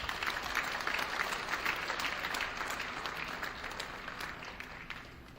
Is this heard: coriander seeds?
no